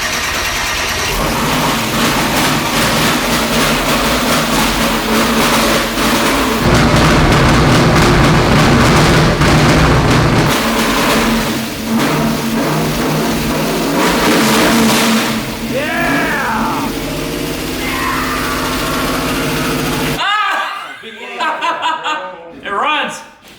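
A 400hp V8 swapped into a van fires up and revs loudly, its roar filling the cab while people laugh and whoop over it, before the engine cuts off.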